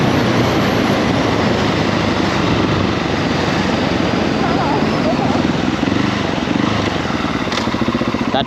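A train rolling past at a railway crossing, heard as a loud, steady rumble and rattle that lasts throughout, mixed with wind and engine noise from a motorcycle waiting nearby.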